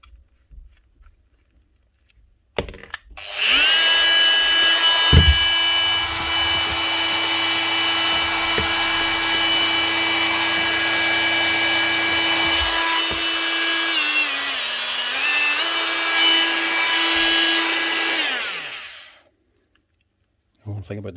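A 2014 Bosch GOP250CE oscillating multi-tool runs steadily for about sixteen seconds with a fairly loud, even buzzing drone, starting and stopping with clicks and a brief pitch dip near the end.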